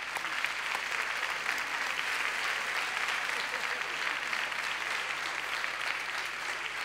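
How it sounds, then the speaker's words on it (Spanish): Steady, dense applause from a comedy-monologue audience, sustained at an even level throughout with no pauses or build. "Un aplauso para ellos"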